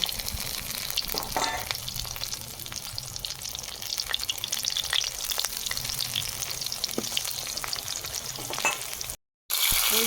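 Pumpkin leaves fry in hot oil for a rural Bengali meal with panta bhat, a dense continuous sizzle with small crackles and stirring clicks, briefly cut by a silent gap near the end.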